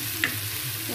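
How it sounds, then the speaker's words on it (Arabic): Food stirred in a frying pan, a brief steady sizzle with one small clink of the spoon early on, close and even. "ممكن نبدا نحرك"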